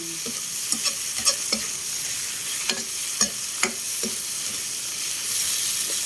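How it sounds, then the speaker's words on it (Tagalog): Steady sizzling of anchovies frying in a pan, with intermittent scraping and clinking as they are stirred, no voices. "halo na natin itong dilis"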